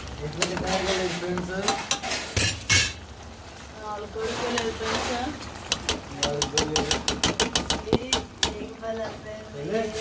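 Meal maker curry is stirred in a pot on a stove, a spoon scraping and clinking against the metal in rapid bursts with a brief pause mid-way, close and clear, while a person talks over it.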